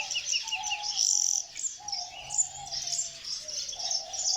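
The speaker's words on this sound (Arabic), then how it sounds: "طيور المغردة مثل الكناري، عندك الحسون، وعندك الموزمبيقي." Caged songbirds in an aviary, canaries, goldfinches and Mozambique canaries, sing together in dense, bright, continuous twittering and trills, close and lively, with no talking.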